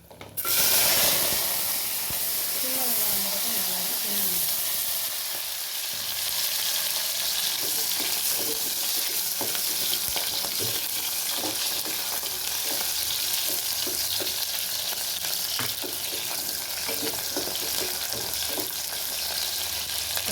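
Dried red chillies and onion fry in hot oil for a mutton lung pepper gravy, a loud, steady sizzle and crackle beginning with a sharp burst. Occasional stirring clatters sound through it, with no voices.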